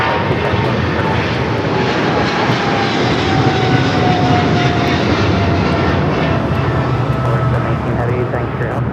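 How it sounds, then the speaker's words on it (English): A DHL Boeing 777 freighter operated by Polar Air Cargo takes off at Los Angeles International Airport, its jet engines producing a loud, steady roar that holds throughout with little change, while voices talk underneath. "That is DHL, operated by Polar Air Cargo 718, taking off 777 freighter to Cincinnati."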